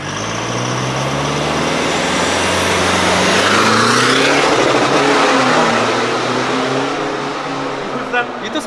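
A car fitted with a Toyota 1GD bi-turbo diesel engine revs up in a long rising sweep that peaks loud midway and then falls back, with a turbo whine riding on top; voices talk in the background.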